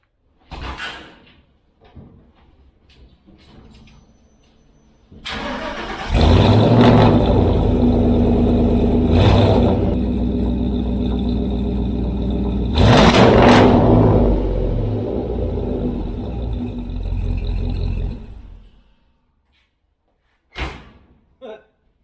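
A 1951 Ford F1 truck engine starts with a loud catch, settles into a steady idle, then revs up sharply before idling and shutting off, with a couple of brief knocks at the end.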